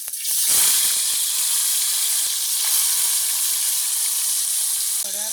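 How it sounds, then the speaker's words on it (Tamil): Meat dropped into boiling oil sets off a loud, steady sizzle and hiss that carries through the whole stretch, with brief spattering crackles near the start. "எண்ணெய் கொதிச்சிட்டு இறைச்சியை போட்டுக்கொள்வோம்."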